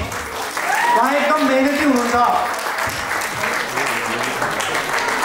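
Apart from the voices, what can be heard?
audience applause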